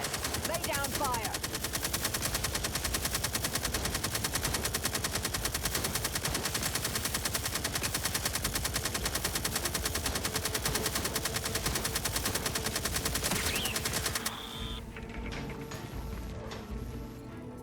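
Sustained automatic gunfire from The Outer Worlds video game, a dense continuous stream of rapid shots with scattered game sound effects, running loud for most of the stretch before thinning out near the end.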